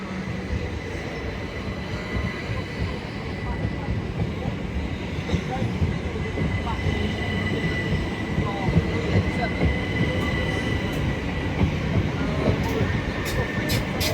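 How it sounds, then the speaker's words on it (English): A Class 387 electric train, unit 387128, runs a London Victoria service through Clapham Junction, giving a steady rolling rumble with faint wheel squeal, held evenly throughout at moderate distance. "Here we have 387128 working a service from London Victoria to Orr."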